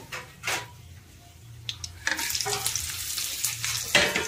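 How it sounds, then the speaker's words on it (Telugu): Bitter gourd pieces frying in a pan, giving a steady close sizzle broken by stirring scrapes and clatters of the spatula against the pan. "ఇప్పుడు ఈ కాయల్ని వేయించుకుందాము."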